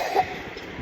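A single short cough from a person, close and fairly loud, early in a brief moment.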